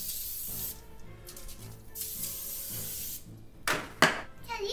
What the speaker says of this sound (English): You wanna put some cooking spray on these?